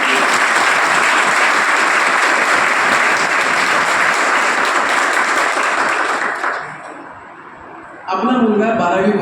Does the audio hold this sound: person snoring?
no